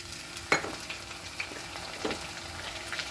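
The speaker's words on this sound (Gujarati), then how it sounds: "હવે એની અંદર હું આ મરચાં વાટેલી પેસ્ટ છે તે નાખી રહી છું." Ground chili paste sizzling in a pan over medium heat while spinach and lentil curry is cooked: a soft steady frying hiss with a few faint clinks and stirring taps, no talk.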